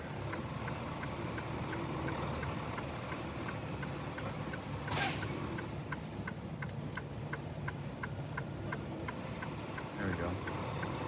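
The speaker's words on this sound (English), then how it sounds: "Lock the brakes up." The air brakes on a Mack truck are set, giving one sharp, brief hiss of released air over a faint, steady idle and a regular soft ticking.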